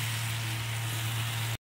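A Bengali-style pomfret fish curry, thinned with the water used to rinse the spices, boils in a pan with a steady, close sizzling bubble that stops abruptly.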